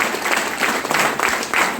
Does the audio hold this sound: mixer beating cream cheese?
no